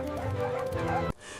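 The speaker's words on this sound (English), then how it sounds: "The hunting dogs jumped up and wagged their tails," Hunting dogs yip and bark excitedly as a sound effect in a fairy tale narration, a short burst of overlapping barks and whines that cuts off abruptly.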